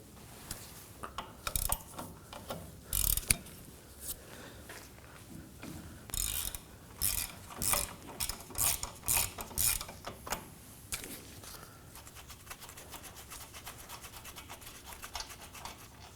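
A ratchet with a 19mm socket loosens bolts on the rear knuckle of a Nissan Armada, producing quick runs of close clicking in rhythmic bursts, fairly quiet, with no talk.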